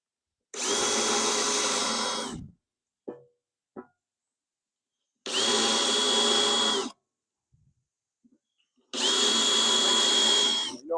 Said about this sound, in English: You don't even have to drill it all the way through with a teeny bit.